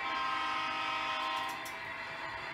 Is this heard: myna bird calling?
no